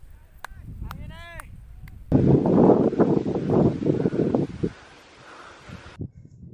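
Gusty wind buffeting a microphone outdoors during the flight of a 600-meter long-tailed kite, a loud rumbling roar for a few seconds before cutting out, with a voice heard briefly at the start.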